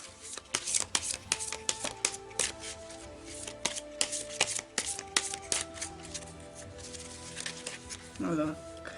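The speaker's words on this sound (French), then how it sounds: "je vais tirer une carte de l'oracle de Mercure" Oracle cards of Mercury being shuffled by hand, with quick papery riffles and soft taps repeating close up over faint sustained background tones, ending with a brief swooping sound.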